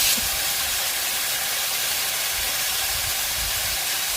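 Sliced onions sizzle in hot oil in a pan for a Kerala-style chicken curry, a steady and fairly loud frying hiss with no pause or voice.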